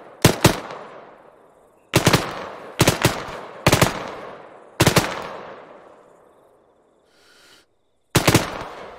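Heavy automatic gunfire in ArmA 3, loud close bursts in an irregular series of about six, each sharp crack trailing into a long decaying rumble, with a brief pause between volleys.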